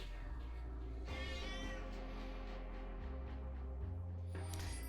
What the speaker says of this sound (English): Yes, Loud Cat has arrived.